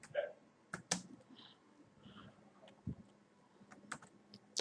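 Typing a name on a computer keyboard, a few close, sharp key clicks scattered irregularly with pauses between bursts, fairly quiet.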